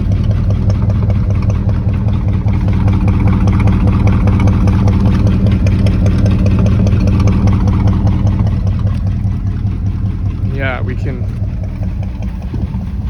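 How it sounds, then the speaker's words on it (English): A 1967 Thunderbird's engine idles steadily and loudly close by, its exhaust pulsing with a rough, uneven ticking from a stuck exhaust valve throughout. "I'm pretty sure it's a stuck exhaust valve"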